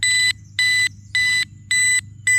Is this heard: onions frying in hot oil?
no